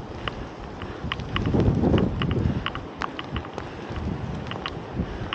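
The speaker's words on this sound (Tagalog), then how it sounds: "Grabe, lakas ng hangin." Strong wind buffeting the microphone in loud, rumbling gusts while cycling, with scattered sharp clicks and rattles throughout.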